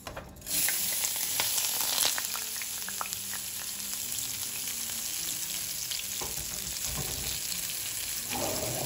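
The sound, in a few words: rice added to hot oil in pan, frying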